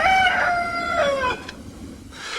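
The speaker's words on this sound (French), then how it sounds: "Peut-être ont-elles été surprises à 12h22 par le chant du coq." A rooster crows close by in one full, loud cock-a-doodle-doo call with a falling final note. It ends with a brief rustle, and no talk is heard.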